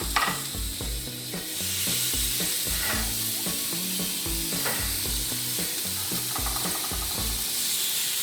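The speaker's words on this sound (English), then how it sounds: "You want to hear that sizzling." Chorizo sizzles and crackles steadily in a hot pan, with rhythmic scraping and tapping of utensils over the hiss.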